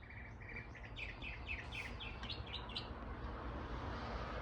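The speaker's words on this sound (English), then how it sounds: "that thing's just chirping up a storm, having a party" A small bird chirps at night around 2 a.m. outside a garage, a rapid run of high, bright tweets fairly faint over a low background hum and insect-like hiss.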